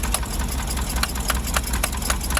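A 1977 GMC 6500 truck's 366 big block engine running during carburetor adjustment, with a steady, fairly loud rhythmic chugging and repeated sharp ticking pulses, nearby and without talk.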